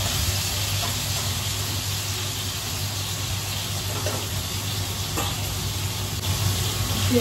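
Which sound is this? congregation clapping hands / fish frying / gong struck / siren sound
fish frying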